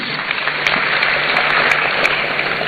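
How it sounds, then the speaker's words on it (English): Applause at the launch of a student entrepreneurship and enterprise development programme, a steady wash of clapping from an audience honouring a deputy CEO, filling the space evenly without voices. "A round of applause for him, please."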